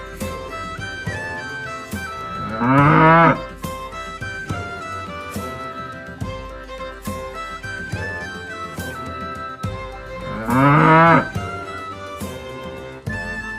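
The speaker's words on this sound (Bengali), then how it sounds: "গরু বাছুর দাঁড়িয়ে আছে" A cow and calf mooing, heard as two long, drawn-out moos several seconds apart, each loud and rising then falling, set against a steady musical backing that runs throughout.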